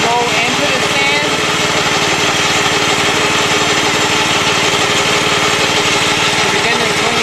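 A Sand Man sand cleaning machine's engine runs steadily at close range, a constant droning motor hum with a faint mechanical rattle and no breaks.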